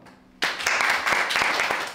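An audience at an economic society lecture bursts into applause welcoming the chairman, a sudden onset of many hands clapping that continues steadily and loudly after a brief quiet start.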